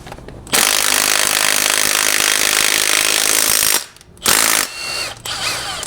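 Power tool whirring as an ARP wheel stud is driven into the hub of an 08–14 Subaru WRX, a loud continuous run of about three seconds, a brief stop, then a second shorter burst trailing into lighter mechanical clicks.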